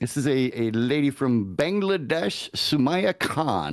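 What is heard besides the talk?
No everyday noise stands out behind the speech.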